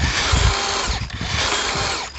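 A big DeWalt power drill, used to crank a commercial mower, whirs loudly and continuously up close, with its pitch and strength dipping briefly midway before steadying again.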